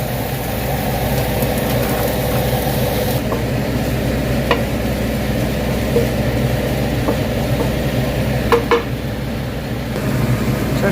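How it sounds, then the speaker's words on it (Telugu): Onions tipped into hot oil in a pan, giving a steady, even sizzle and frying hiss throughout with occasional stirring scrapes and clinks, close and fairly loud, with no voices. "ఇందులో ఉల్లిపాయలు వేసుకుందాం"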